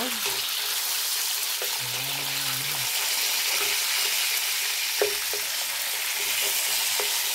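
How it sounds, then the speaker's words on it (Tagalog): Tilapia fish frying in a pan, a steady close sizzle and crackle of hot oil running throughout, with small clinks and stirring sounds on top. "piniprito ko ang isda"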